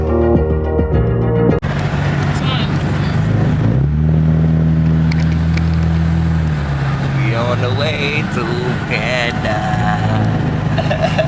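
A car's engine revs and drones while it is driven on the road, the pitch climbing and falling through steady acceleration as people talk inside the cabin.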